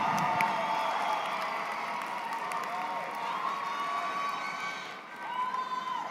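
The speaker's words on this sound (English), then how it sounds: "give them a great round of applause" Graduation ceremony audience applauding and cheering, a broad sustained wash of clapping with scattered whoops from a large crowd, steady and fairly loud, easing briefly near the end before swelling again.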